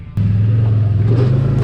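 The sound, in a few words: CFMOTO Zforce 800 Trail Edition side-by-side engine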